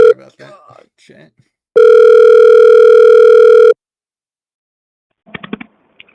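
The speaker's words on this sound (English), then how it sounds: "So I'm about to give you a call here real quick." A steady telephone dial tone sounds for about two seconds while a call is being placed, loud and clean, with someone talking briefly before it and a short burst of speech after.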